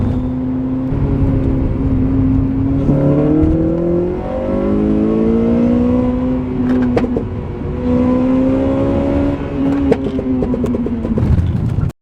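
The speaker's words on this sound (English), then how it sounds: "Ignition cut into third, into fourth. Haven't lifted off, not one bit." A tuned Honda Civic Type R pulls hard through the gears without lifting, its loud, close engine note climbing steadily between brief ignition-cut shifts into third and fourth over about twelve seconds.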